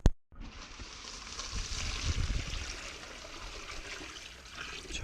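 Water from a 10-litre container pours into a recirculating trommel sluice, a steady splashing trickle lasting several seconds after a brief thud at the start, close and moderately loud with no talking.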